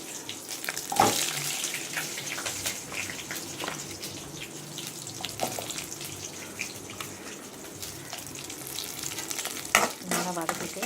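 Onions and curry leaves sauté in a pan for a Madurai mutton kola urundai kulambu, giving a steady close sizzle and crackle with scattered stirring clatters throughout.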